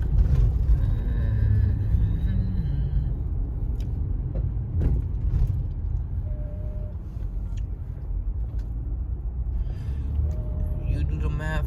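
Steady low engine rumble and road noise from a car driving through New York City rush hour traffic on a Friday night, with faint passing vehicles and a brief brake hiss around it.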